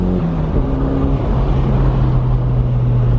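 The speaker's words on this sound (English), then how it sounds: "It's nice getting the exhaust noise. It sounds so good." Steady, loud engine drone from inside a moving Toyota MR2 with a new exhaust, a low exhaust hum with shifting tones as it drives.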